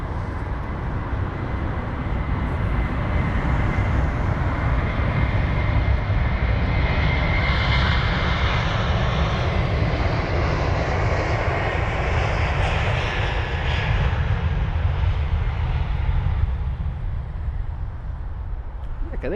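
An Air Algeria airliner landing at London Heathrow, a loud sustained jet engine roar and rumble that swells and holds for the whole stretch, with a broad whooshing tone riding above it.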